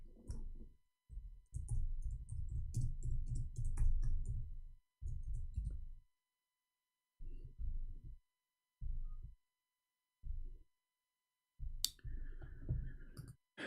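Fingers type on a computer keyboard in rapid bursts of soft, muffled clicks. A long continuous flurry gives way to several short separated runs with silent gaps, and no voices are present.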